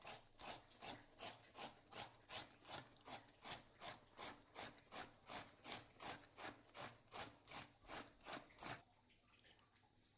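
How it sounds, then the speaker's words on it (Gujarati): Capsicum being grated by hand on a kitchen grater, a steady run of about twenty rhythmic rasping strokes that stops near the end, close and fairly quiet with no talk. "આપણે કેપ્સિકમ ખમણી લીધું છે"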